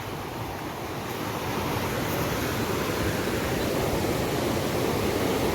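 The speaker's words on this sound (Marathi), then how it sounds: "पाणी पण वाहून राहिला ताकदनं पाण्याचा आवाज जबरदस्त जबरदस्त आहे" Water rushes strongly at Bhivapur Lake in Amravati, a steady, loud, broadband roar like surf or a spillway that swells slightly after the first second and holds without a break.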